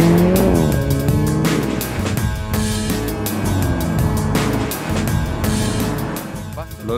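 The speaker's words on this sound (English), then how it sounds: "One thing that really gives the vehicle its racing spirit is the roar of the engine." Alfa Romeo 4C sports car engine roaring loudly and continuously up close, with tire squeal and rising revs as it is driven hard on a track, a voice heard briefly over it.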